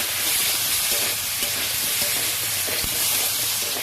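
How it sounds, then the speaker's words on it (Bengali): Potatoes with turmeric and salt sautéing in a pan, a loud continuous sizzle with faint scraping stirs underneath. "এবার একটু কষবো"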